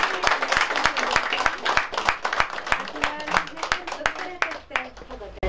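Audience applause for the winner of a first-grade poetry recitation contest, a lively scattered clapping of many hands near and steady, tapering off toward the end, with a voice speaking over it.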